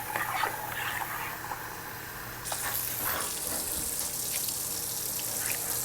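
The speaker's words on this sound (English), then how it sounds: "I think we could use a little bit more hot water in there" Hot water pours into a pot for making nacho cheese, starting as a faint trickle and swelling into a steadier splashing gush midway, close by, with no one speaking.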